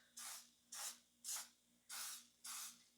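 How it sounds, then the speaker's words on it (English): Five short spritzes of regular cooking spray hiss into a silicone bread pan, each burst about a third of a second long, evenly spaced and close, with quiet pauses between. "We're going to use just a regular cooking spray, and we're just going to give it a spritz."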